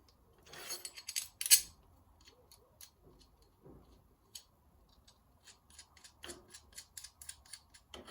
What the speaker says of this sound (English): So what I'm going to do is bolt them together